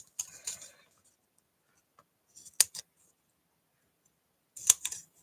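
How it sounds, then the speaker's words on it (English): Scissors snipping paper while making greeting cards: three short bursts of crisp cuts separated by quiet pauses, close and fairly soft. "I need my crappy scissors."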